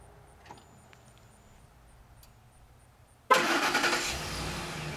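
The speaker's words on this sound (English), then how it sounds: "It's called remote start. Key, all you do is push and hold the blue button." A 2007 Lincoln Navigator Ultimate 4x4 starting by remote start: a couple of faint clicks in near silence, then a sudden loud crank and catch as the engine fires into a steady idle.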